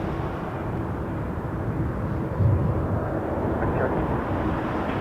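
A WestJet Boeing 737-800 airliner lands at Toronto Pearson Airport with a steady, distant-sounding broad rumble of jet noise that holds level throughout, swelling slightly midway.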